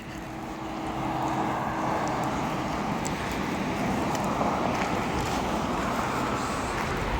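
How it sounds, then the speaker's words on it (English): Street traffic rumbles in a low, steady wash as cars pass along a city road, soft and somewhat distant, with no talking. "Cars driving by, so you might be hearing a lot of background noises"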